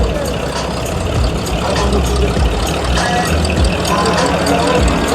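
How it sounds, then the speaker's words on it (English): Loud, continuous engine roar and road rumble from a car making 300 horsepower at the wheels while it drives on three wheels, with voices talking over the noise. "The car is literally driving on 3 wheels."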